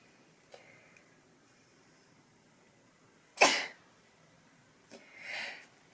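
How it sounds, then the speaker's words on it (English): A single sharp, loud sneeze bursts out in a quiet indoor room, followed a moment later by a softer, breathy sniff or exhale. "I need to sneeze."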